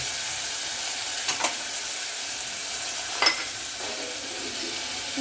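Clams dropped into a hot pan with masala, a continuous close sizzle with a couple of brief clattering knocks as the shells go in and are moved about.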